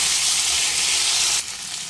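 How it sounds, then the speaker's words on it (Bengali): A pan of vegetarian mankochu (giant taro) sizzles loudly and steadily, then water is added and the hiss drops suddenly to a softer, bubbling simmer. "অল্প একটু জল দেব।"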